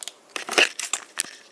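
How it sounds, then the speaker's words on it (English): Scissors cutting open a Gatorade Zero Sugar Orange Blackberry Hibiscus drink mix packet: a few crisp snips with crinkling plastic foil, close and clear, with no talk. "you get the scissors, you open up the packet of the"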